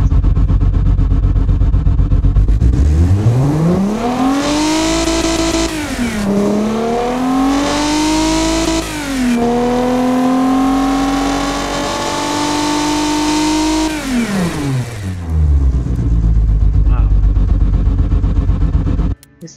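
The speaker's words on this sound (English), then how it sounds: "This engine is just rumbling and burping like a beast." A GMC 351ci V6 in the racing game Automation revs hard and repeatedly, loud and close, with rising and falling engine pitch, brief dips between pulls and a rough, burbling tone, with no talk.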